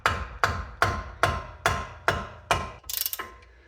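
Ratchet with a 14mm long socket loosening sway bar link nuts on a 2011 Subaru Forester: a run of loud, close, evenly timed clicks, ending in a quick buzzing ratchet spin.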